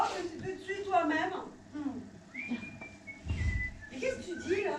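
A man whistles a short tune during a stage play, with clear melodic notes that come between and beneath bursts of spoken dialogue.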